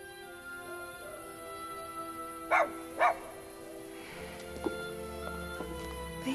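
A puppy's two short barks sound in quick succession in a quiet room, followed by soft faint movement and rustling.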